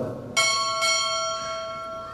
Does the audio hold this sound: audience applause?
no